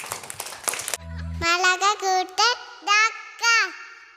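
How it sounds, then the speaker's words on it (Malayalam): Children give a short burst of clapping for presenters on a children's Christian programme, about a second of crisp, close hand claps that cut off and give way to voices speaking. "ഒരു ബിഗ് ക്ലാപ്പ് കൊടുക്കാം."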